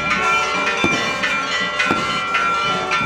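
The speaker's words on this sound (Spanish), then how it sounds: "Cohetes en el cielo y repique de campanas." Church bells ring in a steady peal with regular strikes about once a second, over a dense outdoor wash of noise, during a Catholic procession of the Holy Innocents in Antiguo Cuscatlán.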